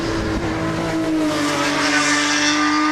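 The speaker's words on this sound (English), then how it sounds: "What a noise that car makes." An NSX race car with a 3-litre V6 blasts past at a hillclimb, a loud continuous engine howl with strong steady harmonics that shifts in pitch as it goes by, close and dominant with no talk over it.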